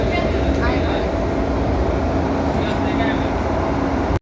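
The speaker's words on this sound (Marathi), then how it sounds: "मेट्रो आलेली आहे आमची, जायची ती स्वारगेटला." Pune metro train arriving at a station bound for Swargate, a loud steady rumbling roar with whining tones filling the platform, ending abruptly, while people chatter nearby.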